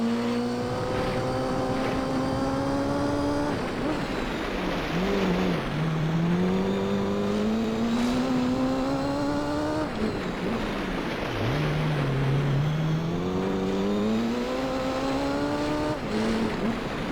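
Mazda 6 race car engine in the Gran Turismo Concept video game on the Tahiti Maze track, a loud continuous whine that climbs through the revs, drops sharply at each gear change or braking point and climbs again, with no talking.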